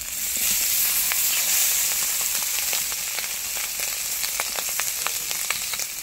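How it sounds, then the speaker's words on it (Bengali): Small mourala fish frying in hot oil make a loud, steady sizzle, with sharp crackles and pops throughout. "বাকি মাছগুলোও ভেজে নেব।"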